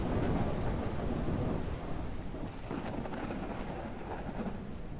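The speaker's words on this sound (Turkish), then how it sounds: "Uy, yağmura bak sen kardeşim" Heavy rain pours steadily close by, a dense continuous wash with a low rumbling roar beneath it, loud throughout without pause.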